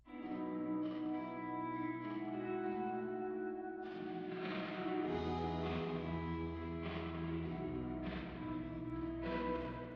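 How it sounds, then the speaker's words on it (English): A washy, ringing soloed plate reverb tail of a drum groove, with hits smeared into a dense, sustained shimmer and no dry attack. "You only get the decaying sound of a reverb."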